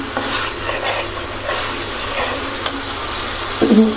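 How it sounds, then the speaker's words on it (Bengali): Masala spice paste frying in a pan after pabda fish has been fried, a loud continuous sizzle with rhythmic stirring scrapes and a brief clink of metal near the end. "মশলাটা কষিয়ে নিন মশলাটা কষানো হয়ে গেছে"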